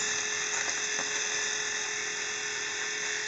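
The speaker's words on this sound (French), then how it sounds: "on va passer un rasoir électrique sur de la crème à raser" A Philips Aquatouch electric razor shaving through shaving cream gives a steady high-pitched electric buzzing whine at constant pitch throughout, close up, with a couple of faint clicks early on.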